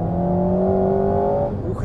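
Alpine A110 sports car engine accelerating, a rising steady drone with clear tonal bands that holds, then fades and drops away near the end, with talk over it.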